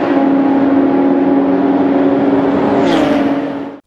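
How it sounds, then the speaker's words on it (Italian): Nissan Juke crossover with a 1.5 dCi 110 hp diesel and six-speed manual drives on the road, a steady engine drone with tyre and road roar heard from inside, loud and continuous before cutting off. "Oggi abbiamo una Nissan Juke spinta da un 1500 DCI da 110 cavalli"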